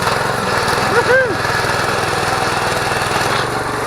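A new small engine fitted to an old garden tiller runs with a steady, buzzy drone. It is loud and close, and a brief voice rises over it partway through.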